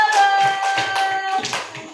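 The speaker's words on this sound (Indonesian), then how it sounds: "Tepuk tangan dulu." Young children in a first-grade classroom clap their hands in short, loosely rhythmic bursts over a steady background tone, moderately close, with no speech.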